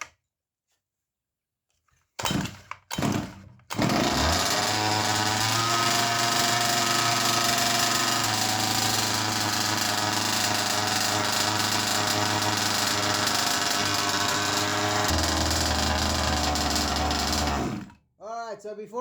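A small pull-start engine with the choke on catches after a couple of pulls and settles into a loud, steady buzzing idle that runs for about fourteen seconds before cutting off abruptly.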